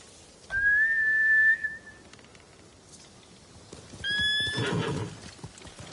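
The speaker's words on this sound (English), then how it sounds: "Bastards scared off the horses." Trained samurai mounts neigh sharply twice, loud shrill whinnies separated by a pause, with hooves shuffling and stamping underneath.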